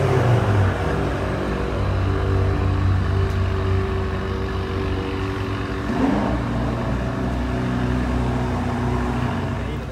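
An Acura NSX hybrid supercar drives, its engine a continuous low droning rumble with shifting tonal hum, steady and fairly loud throughout, with a brief surge partway through.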